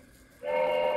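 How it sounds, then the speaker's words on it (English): An LGB model train starting off after quiet, a sudden steady tonal hum with a whistle-like ring rising in and holding loud and close, no talking. "the train is starting off as the barrier is open"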